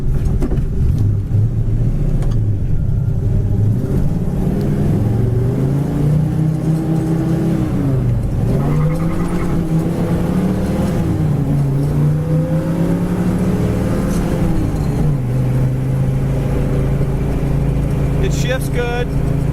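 A 1970 Chevrolet Chevelle's engine drones steadily while driving down the road, its pitch rising and dipping with throttle and gear shifts, loud and continuous throughout.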